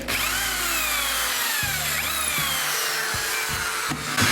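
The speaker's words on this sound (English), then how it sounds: "I'll have to pull the drill bit out a bit further and see if it'll go all the way through now." A power drill bit bores through an orchid mount, its motor whining steadily with rising and falling pitch sweeps as the bit bites and loosens, close and loud, with no voices.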